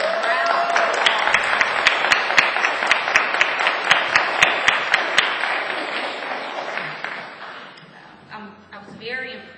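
An audience applauding students at a symposium, a dense burst of many hands clapping with a few sharp individual claps standing out, loud at first and tapering off near the end as voices begin.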